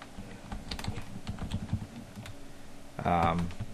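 Rapid clicking of keys on a computer keyboard, close up and steady, with a brief voice-like sound near the end.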